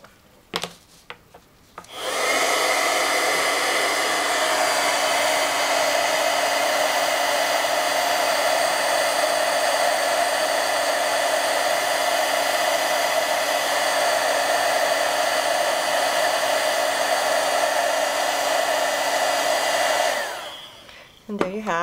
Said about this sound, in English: I'm going to use my heat tool to heat emboss this.